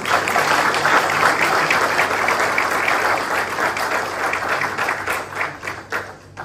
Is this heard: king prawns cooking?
no